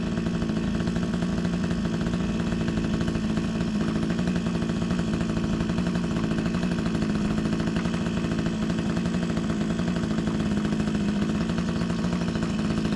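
A steady mechanical engine drones evenly throughout, with a constant low rumble and no pauses, fairly close and loud.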